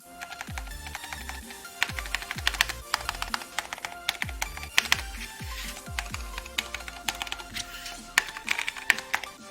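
Typing on a Cherry MX 3.0S mechanical keyboard: a close, steady run of crisp keystrokes with irregular rhythm and occasional heavier bottom-out thumps, with no voice over it.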